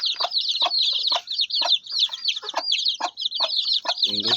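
A dense, constant chorus of high peeping comes from 11-day-old native chicken chicks close by, overlapping chirps with quick pulses of rhythm and a faint rustle at the very end.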